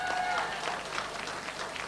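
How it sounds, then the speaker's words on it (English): A studio audience at a radio station's farewell broadcast gives a round of applause, a dense, steady patter of clapping that holds at moderate level for the full stretch. "So I give them another round of applause as well."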